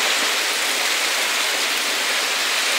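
Heavy storm rain pours down in Manavgat, a dense, loud, even hiss of downpour without pause or voices.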